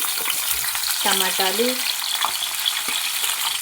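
Chopped tomatoes, green chilies, ivy gourd and eggplant pieces go into a hot pan, giving a steady sizzle with scattered clicks and a brief tonal whine partway through, no talking.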